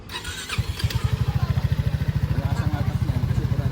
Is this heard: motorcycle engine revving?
yes